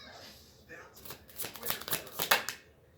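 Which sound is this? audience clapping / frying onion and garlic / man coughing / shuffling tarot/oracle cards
shuffling tarot/oracle cards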